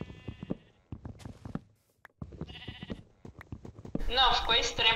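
Sheep bleating in Minecraft, several short wavering bleats mixed with game sounds and clip-clop steps, with someone talking over them and a burst of louder noise near the end.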